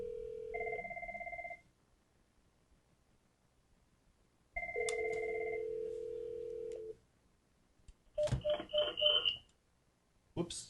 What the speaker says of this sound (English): You can hear it ringing,